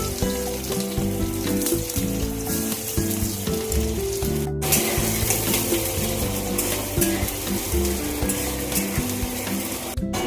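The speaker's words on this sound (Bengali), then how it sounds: "এবার আমি এখানে পেঁয়াজ দিয়ে দেবো।" Sliced onions with sugar frying and sizzling in hot oil in a pan, a steady dense crackle running throughout, close and loud, with a brief cut midway and stirring.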